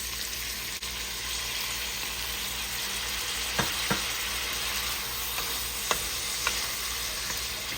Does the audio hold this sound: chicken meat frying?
yes